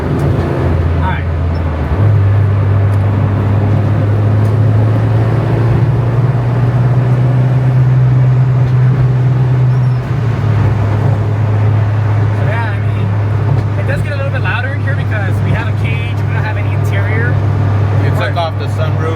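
An Acura Integra GSR with an L15B7 engine swap and a deleted sunroof cruises at about 65 mph in the slow lane, giving a steady, droning engine and road hum while people talk inside.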